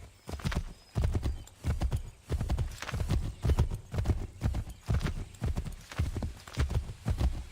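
Horse hooves clip-clop in a steady galloping rhythm in Assassin's Creed 3 Remastered, loud and close, with a whinny mixed in over the repeated beats.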